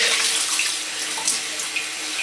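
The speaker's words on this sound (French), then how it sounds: "toujours avec de l'eau tiède, pas trop chaude" Lukewarm tap water runs steadily into a sink or tub while hair is rinsed, a continuous close splashing hiss with small shifts in flow and no voices.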